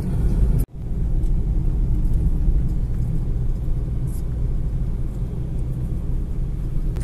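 A car carrying a film crew drives to a shoot location, its steady low road rumble and engine drone filling the cabin, broken by a brief dropout near the start, with faint voices in the background.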